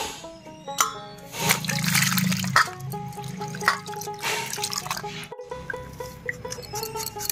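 Water drips and trickles while a peeled ash gourd is rinsed, with soft splashes and small knocks from handling at close range, and a brief pause near the end.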